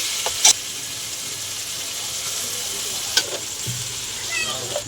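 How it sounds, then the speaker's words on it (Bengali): Rice goes into a crab biryani masala and is stirred, with a soft sizzle and scraping under a steady hiss and a couple of sharp clinks; no one speaks. "আমরা রাইসটা দিয়ে দিচ্ছি।"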